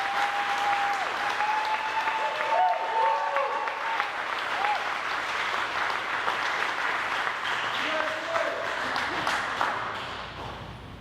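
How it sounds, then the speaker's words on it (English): Big audience applause for military service members at an award ceremony, sustained loud clapping and cheering from a large crowd over about eleven seconds, with a few voices and whistles rising through it before it tapers off. "give the biggest round of applause we possibly can to the men and women who serve the United"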